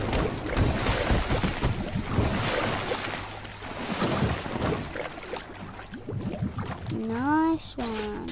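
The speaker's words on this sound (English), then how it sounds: "This must be really cold water." Water in the Batman: Arkham City video game, a steady churning wash of splashing and sloshing surf, loud and continuous, with a voice speaking near the end.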